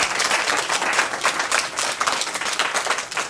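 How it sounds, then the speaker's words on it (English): Applause from an audience of schoolchildren and adults at a Boston read-aloud event, a busy, even clatter of many hands clapping nearby with no talk over it. "So let's give a round of applause for Dr. Chang."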